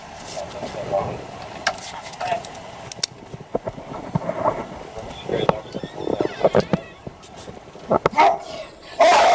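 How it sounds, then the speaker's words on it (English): Several dogs barking roughly and repeatedly in bursts near a trailer, loud and close, with people talking throughout. "Are your dogs friendly? They're friendly, but they sound rough."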